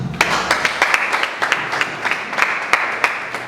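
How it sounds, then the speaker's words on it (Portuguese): Congregation members applaud at the opening of a church-led health conference in Angola, with scattered, moderately loud hand claps over a low murmur. The claps come in a loose, uneven rhythm. "Aplauso."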